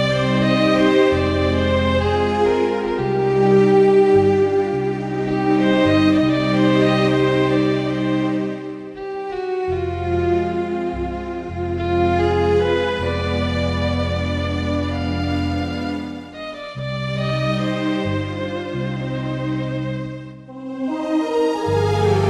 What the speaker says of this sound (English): How about this one, Romantic Strings.